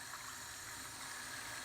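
Cold water is poured into a cup of coffee to speed its cooling, giving a steady, close liquid pouring and filling sound that continues for the whole clip with no talking.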